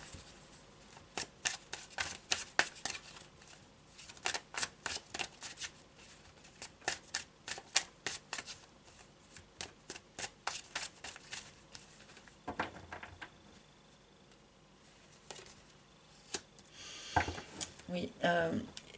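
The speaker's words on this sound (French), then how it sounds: "Je vais quand même prendre quelques cartes du tarot de Marseille" Tarot de Marseille cards are shuffled by hand in a long run of crisp riffling and slapping bursts, fairly close and steady, with quieter pauses and a few softer rustles near the end.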